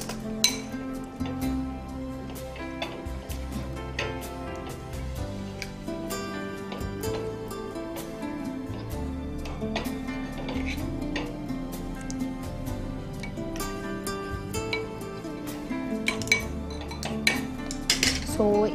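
Spoon scraping and clinking steadily against a bowl while chicken marinade with garam masala, yogurt and food colour is mixed, a continuous busy clatter of metal on the dish with no talking.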